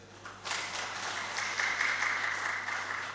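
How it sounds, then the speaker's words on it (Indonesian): Congregation applauding during a Sunday worship service at a Pentecostal church, a steady, moderately distant wash of many hands clapping continuously for a few seconds. "Tepuk tangan dong buat Tuhan Yesus."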